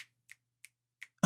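Four crisp finger snaps in a steady rhythm, close and alone, then a short thump at the end.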